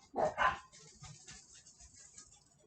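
A dog gives two loud, close barks in quick succession indoors, followed by fainter household noise.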